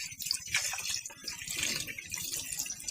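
Puti fish being rinsed under a running tap in a sink, a steady close splashing gush of water that continues unbroken throughout.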